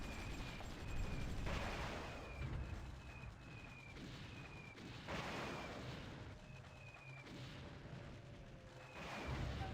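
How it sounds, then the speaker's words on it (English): Artillery fire in the war strategy game Supreme Ruler Ultimate: a steady, rumbling barrage of distant booms and blasts with repeated swells, continuous throughout with no talking. "they're using artillery against us"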